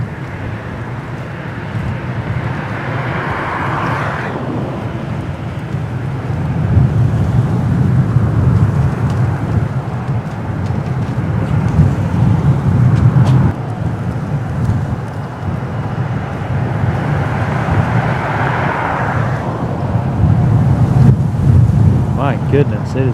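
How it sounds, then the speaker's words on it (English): Strong gusty wind buffets a microphone fitted with a windscreen sock, a continuous loud low roar that swells and eases in waves outdoors beside a road, with no voices. "Bet you even with the sock on my microphone, you can still tell it's windy."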